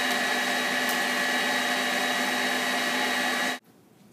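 A blender purees fresh strawberries for buttercream frosting with a loud, steady motor whir that runs continuously and then cuts off abruptly near the end, leaving faint room noise.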